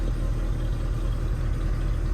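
A 1978 Jeep Cherokee engine idling low with a misfire, a steady deep rumble with an uneven, stumbling low-end pulse, close and continuous, no voices.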